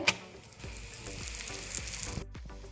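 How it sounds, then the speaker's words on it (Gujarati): An onion paratha fries in butter on a nonstick griddle over a gas flame, making a soft, steady sizzle with faint crackles and a few light scraping touches. "ગેસ સ્ટાર્ટ કરીને એની ઉપર એક નોનસ્ટિક તવો લીધો છે અને આપણે બટર અથવા તો ઘી ગમે એ લગાવશું અને પછી આપણે પરોઠું છે એમાં શેકવાનું છે"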